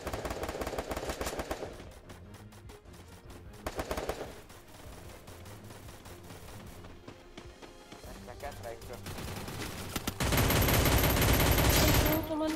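Rapid bursts of automatic gunfire in Free Fire, intermittent then a sustained loud volley near the end, with a person talking over it.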